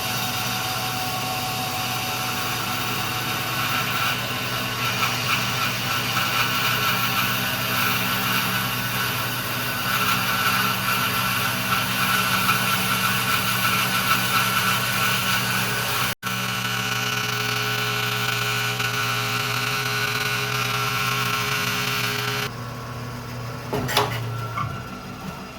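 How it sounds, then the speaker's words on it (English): A bandsaw fitted with a 1/4-inch blade slowly cuts wood for a scarf joint guitar neck. It makes a loud, steady motor hum and cutting drone that runs continuously, then drops away near the end. "I normally use my 3/4 1-inch blade in that bandsaw"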